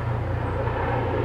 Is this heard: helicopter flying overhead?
yes